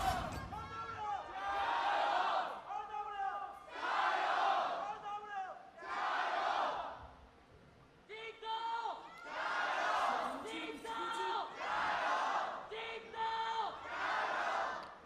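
Fans in an esports arena cheer and chant in loud, surging waves during a League of Legends LPL 2018 third-place match between Rogue Warriors and JD Gaming. Rhythmic shouts rise and fall, and voices talk through the noise.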